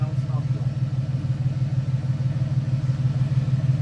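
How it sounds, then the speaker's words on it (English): A car engine idles steadily and smoothly up close after a fuel pressure repair, a low, even rumble that holds without revving. "hit the key, fired up, and it's idling better, I think, than it has since we owned it."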